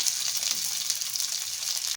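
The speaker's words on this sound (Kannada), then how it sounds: "ಇವಾಗ ಒಂದು ಒಗ್ಗರಣೆ ಮಾಡ್ಕೊಳ್ಳೋಣ ಅಷ್ಟೇ." Tempering spices for paneer pasanda sizzle in hot oil in a pan, a close, steady, bright crackling hiss that runs throughout with no voices.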